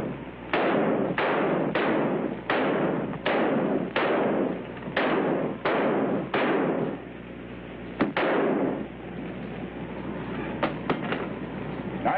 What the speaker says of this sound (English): Nice shooting, boys.